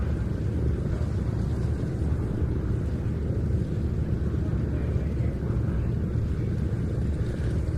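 A P-47 fighter aircraft flies its display while the B-17 Sally B comes in to land at an airshow, heard as a steady, distant rumbling drone with wind buffeting the microphone.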